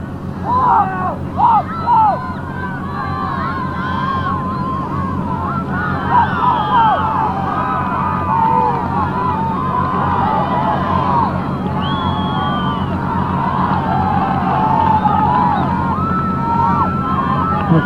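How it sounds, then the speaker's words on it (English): Fans cheer and shout in a loose, continuous babble of raised voices from both sides at a boys' high school soccer final played outdoors, the crowd sounding somewhat distant and steady throughout. "Sounds like the fans on both sides are into this game."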